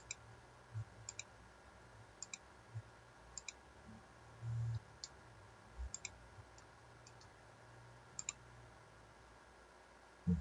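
Soft, sparse mouse clicks while modeling a charger part in CAD software, arriving singly and in quick pairs at irregular intervals over a faint, quiet background hum.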